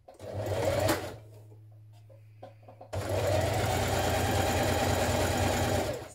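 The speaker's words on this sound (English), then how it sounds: "I'm just going to machine stitch mine" A sewing machine stitches the centre front seam of a 1960s vintage dress, whirring steadily in a short burst, pausing with faint handling clicks, then running again in a longer continuous stretch at close range.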